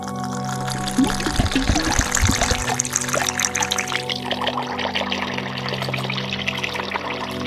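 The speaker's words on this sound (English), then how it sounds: "Pour warm water into a bowl." Warm water pours steadily into a bowl for a pedicure soak, a splashy gush at first that settles into a softer continuous trickle, close and fairly loud.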